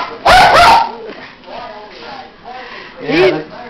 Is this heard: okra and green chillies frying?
no